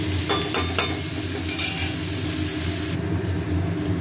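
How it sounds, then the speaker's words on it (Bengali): Mutton fat sizzles and fries steadily in a pan alongside potato and onion, with a broad continuous hiss and occasional stirring scrapes, close and fairly loud throughout. "মাটন চর্বিটাও দিয়ে দিলাম এবার এইগুলো খুব ভালো করে ভাজবো"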